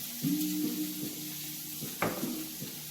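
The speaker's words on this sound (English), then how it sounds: "Saute that. Just a few seconds for the garlic to cook a little bit." Garlic sautés in a pan for an omelet, giving a soft steady sizzle with a brief utensil scrape or tap near the end, fairly quiet and without talk.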